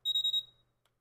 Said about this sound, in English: Let's see if I can get it to play the alarm.